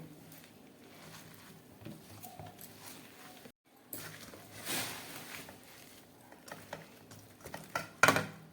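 Grated radish being kneaded by hand with salt, giving close, wet, irregular squelching and patting sounds with a few brief clinks of a bowl.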